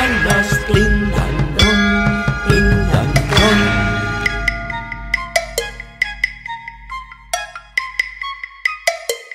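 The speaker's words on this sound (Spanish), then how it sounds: "Suenan las campanas, din-dan-dón" Ringing bell tones strike in a busy cluster, then single chimes ring out one after another, each decaying, with no voices.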